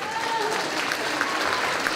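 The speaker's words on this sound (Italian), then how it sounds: "Allora, applauso" Applause from the audience at a Christmas roller figure skating show in Montecchio Precalcino, a steady dense clatter of clapping held at an even level with faint voices mixed in.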